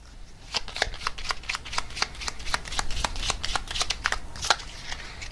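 Oracle cards are shuffled by hand, a rapid, close run of crisp riffling slaps and flutters repeating steadily for several seconds, with no voices.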